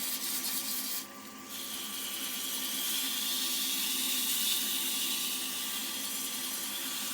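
A wooden wand being hand-sanded with 150 grit sandpaper gives a continuous close, soft hissing rasp, with a brief pause near the start before the steady rubbing resumes.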